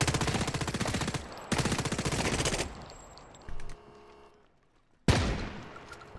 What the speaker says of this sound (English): The shotgun is insane.